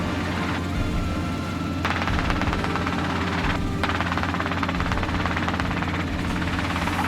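A real helicopter is flying, with a loud, close, steady rotor chop and engine roar, punctuated by brief bursts of louder blade slap partway through.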